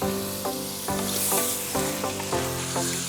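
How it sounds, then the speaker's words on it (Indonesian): Pieces of fried toman fish go into a pan with fragrant spice paste and water. A strong, continuous sizzle and bubbling fry carry on with regular stirring pulses, and nobody talks. "Lalu masukkan ikan toman goreng."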